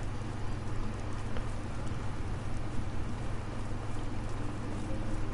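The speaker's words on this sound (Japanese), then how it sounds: "そして雨が降ってる。" Rain falling outside Whiterun in Skyrim, a steady, dense hiss of drops that stays even and fairly loud, with no voices over it.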